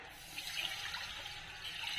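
Water is poured into a pan while millet kozhukattai dough is being made, a soft, steady splashing trickle heard alone at a low level.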